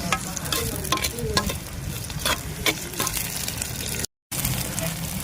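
Tomatoes sautéing with onions in a pan for a Tamil-style mutton intestine curry, a loud, continuous close sizzle with repeated spatula scrapes and stirring knocks and a brief dropout near the end.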